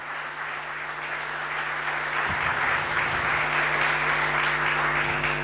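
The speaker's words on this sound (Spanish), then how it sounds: "denle un aplauso a Dios porque Él es grande." A church congregation breaks into loud, sustained applause, a dense steady roar of clapping from many hands that holds at an even level throughout.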